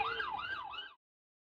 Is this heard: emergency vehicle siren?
yes